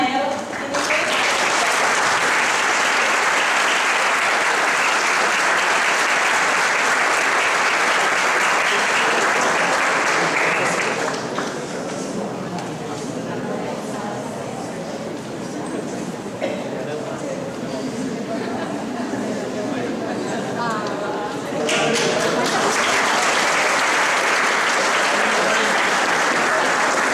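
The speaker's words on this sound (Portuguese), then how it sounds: "Uma salva de palmas a ela" Loud, sustained applause from the audience at a university law school mock trial, dense clapping that eases and thins in the middle while people talk, then swells again toward the end.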